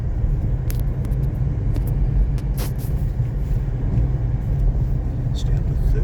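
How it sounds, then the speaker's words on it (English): A Renault/Dacia Duster 1.2 turbo petrol 4x4 with manual gearbox pulling hard in third gear, its steady loud low engine drone and road rumble continuous throughout, heard from inside the car. "And even in 3rd, while the turbos are already boosting away, handles it no problem."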